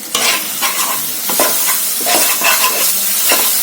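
Chickpea chole sizzles loudly in a hot pan while a spoon stirs it, with steady frying hiss and repeated scraping and clacking strokes close by, no voices.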